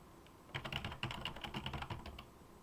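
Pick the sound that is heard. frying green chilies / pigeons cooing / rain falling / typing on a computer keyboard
typing on a computer keyboard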